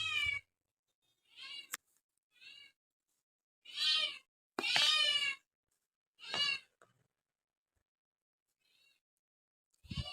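A pet cat meows repeatedly in short separate calls, some longer and louder than others, with brief quiet gaps between them and no talk.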